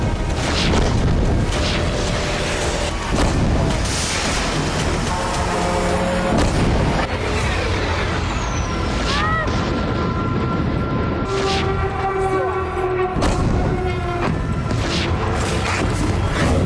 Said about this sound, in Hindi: रूस के 2 सैन्य ठिकानों पर भी जबरदस्त धमाके हुए।